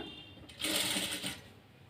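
A sewing machine stitches a short run on a blouse, a brief close whirring burst that rises quickly, holds for under a second and fades out.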